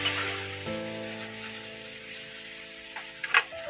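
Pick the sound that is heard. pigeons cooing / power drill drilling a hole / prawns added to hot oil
prawns added to hot oil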